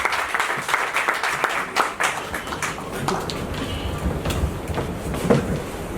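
Audience applause at a book launch in Faridabad, a dense crowd of hand claps sustained for several seconds at fairly steady loudness, with a few sharper claps standing out near the end.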